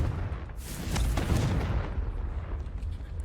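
A Confringo fire spell explodes in Hogwarts Legacy, a loud, heavy boom with a rumbling low roar that swells, then fades into a sustained background rumble.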